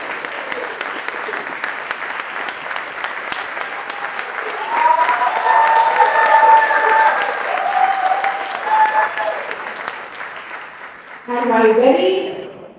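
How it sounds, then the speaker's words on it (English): Steady applause from a seated audience at a District 80 Hall of Fame ceremony, swelling louder midway as honorees stand, then a voice speaks briefly over a final burst of clapping. "let's give a round of applause to our beautiful and wonderful PQD Hakim and Sharon"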